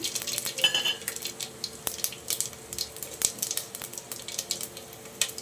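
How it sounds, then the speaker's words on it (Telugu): Whole spices (bay leaf, cloves, cardamom, cinnamon, nigella and black cumin) hitting hot oil for mutton pulao, with a steady crackling sizzle and scattered scrapes and clinks of stirring, fairly quiet and close, no talk. "ఇప్పుడు మనం ఈ మసాలా దినుసులు ఏవైతే ఉన్నాయో తేజ్పత్తా లవంగాలు ఇలాచి దాల్చిని అండ్ కలంజి షాజీరా వీటన్నిటి ఇందులో వేసేస్తున్నాను"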